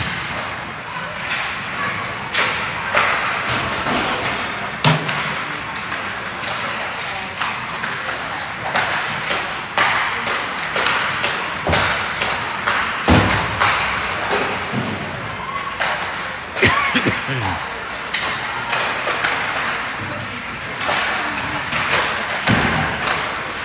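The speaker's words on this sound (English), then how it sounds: "Lineups are taking shots on Riley, get him ready to go" Ice hockey pucks fired in rapid succession at a goalie during pregame warm-up at a Golden Knights versus Rangers game, a steady stream of sharp thuds and slaps over a noisy arena crowd.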